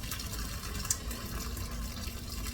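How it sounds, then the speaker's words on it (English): Water pours steadily off a grain-cooking pot attachment, a constant rushing splash with one brief louder spatter, heard close and alone. "what I'm gonna do is drain all the water off outside of the screen."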